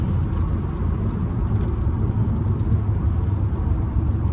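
Steady rain drumming on a moving car in Maryland traffic, heard from inside the cabin over the continuous low road and engine rumble, even and unbroken with no talking.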